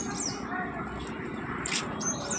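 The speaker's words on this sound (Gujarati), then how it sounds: "અહીંયા પક્ષી પણ આવી ગયું" A bird chirps in a garden in Deesa, a few short high tweets breaking through steady outdoor background hum, fairly faint and distant, with a brief quieter chirp near the end.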